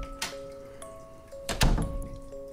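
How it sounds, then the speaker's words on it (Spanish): A building's door swings shut with a dull thunk after a faint earlier knock, heard close and alone over a quiet room with a steady background hum. "Mientras cerraba la puerta del inmueble"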